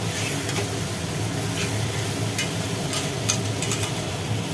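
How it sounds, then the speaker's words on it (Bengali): Water goes into a pan of sizzling jackfruit curry, giving a steady, close, hissing sizzle that continues evenly without pause. "ব্যাস এইবার ঢেলে দিলাম জল"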